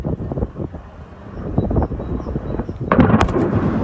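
A drone blowing up over Russia, heard through played-back footage: a rumbling, wind-buffeted background that swells into a louder burst near the end, fairly loud and with no voices.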